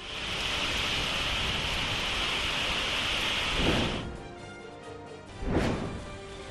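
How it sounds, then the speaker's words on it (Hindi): A waterfall over a hundred feet high in violent flood after heavy rain, a steady loud roaring rush of water that dips briefly near the end. "सौ फीट से ज्यादा ऊंचाई वाला ये वाटरफॉल डरा रहा है। भारी बारिश की वजह से ये जबरदस्त उफान पर है।"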